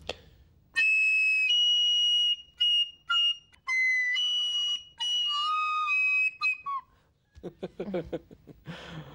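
A small hand-held whistle plays loud, clear piping notes in short bursts of varying pitch, then gives way to rustling and a brief laugh near the end.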